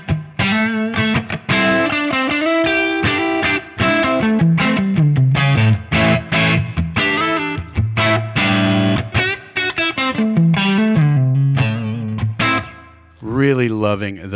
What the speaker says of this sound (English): Neck pickup.